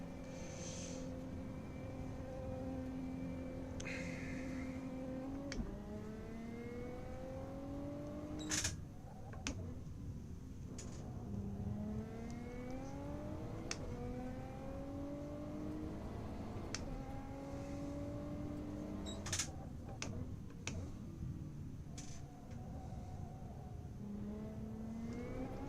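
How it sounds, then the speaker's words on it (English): Race car engine in Assetto Corsa Competizione revving up through repeated gear changes, pitch climbing and dropping steadily over a long straight, loud and continuous with brief shift blips and no talk. "How's that engine sound? That it sound a little bit better?"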